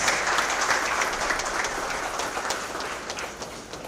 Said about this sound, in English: Please welcome our chief guest with huge round of applause.